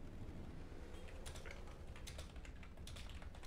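Quiet typing on a computer keyboard to chat during a Halo: The Master Chief Collection match, a steady run of soft clicks that grows denser toward the end under a low background hum.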